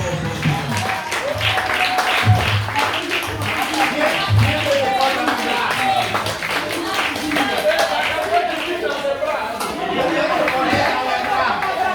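Wedding guests applaud loudly in a dense, sustained burst of clapping mixed with crowd chatter, the noise steady and close for the whole stretch.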